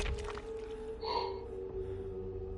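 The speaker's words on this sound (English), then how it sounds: "why do I start yawning the second I start streaming?" A person yawns once during a game stream, a drawn-out breathy gasp that swells in the middle and fades, heard close over a steady background hum.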